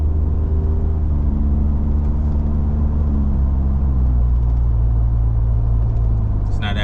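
A Ford F150 EcoBoost fitted with an AWE exhaust and SPD resonator accelerates at partial throttle, its engine drone heard from inside the cab rising steadily in pitch as the truck gathers speed, over a constant road rumble.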